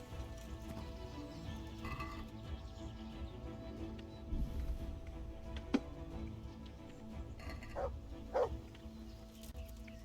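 A dog in Kingdom Come Deliverance gives faint, short yelps and whimpers, a few scattered cries over quiet ambient background.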